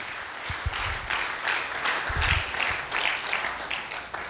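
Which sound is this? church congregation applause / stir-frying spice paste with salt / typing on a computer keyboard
church congregation applause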